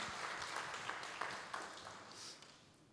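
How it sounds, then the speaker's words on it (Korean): Faint applause from a university audience welcoming the president at a formal ceremony. Scattered claps come from a distance and thin out toward the end. "큰 박수로 환영해 주시면 감사하겠습니다"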